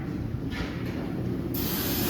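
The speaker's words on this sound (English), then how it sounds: "This is a quick spray." A spray gun coats the inside of a 1948 Chevy Cabriolet frame with a loud, continuous hissing burst that swells and grows brighter toward the end, close up.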